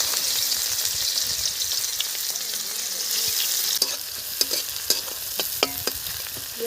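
Sliced onions sizzle and fry steadily in hot mustard-style cooking oil left over from frying fish, in a rural Bengali kitchen, with a close, continuous crackle and several sharp clinks of stirring near the end.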